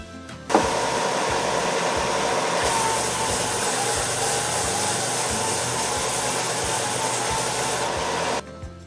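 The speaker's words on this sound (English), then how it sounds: "I'm going to sand them, run them through the sander just to clean that up so only the black will be in the dots" A power sander strips paint from large wooden yard dice, a steady, loud, broadband whir that starts abruptly, runs unbroken for about eight seconds, then cuts off.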